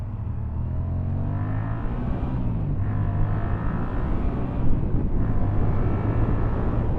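A Chevrolet Corvette drives past with a loud, close engine rumble that swells and shifts pitch as it goes by, over steady road noise.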